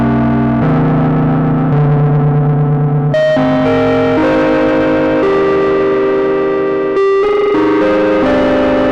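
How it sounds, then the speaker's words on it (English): Heavily distorted synthesizer notes from Bitwig with a gritty, guitar-like tone, sustained loud tones that shift pitch every second or so, layered with chorus-like harmonics and no speech. "like distorted, crazy, almost like guitar sounds."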